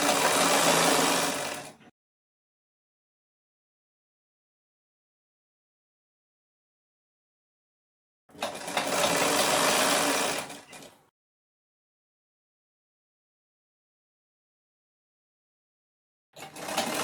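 A sewing machine stitches a poncho in three separate bursts of close, steady whirring, with long silent gaps between them.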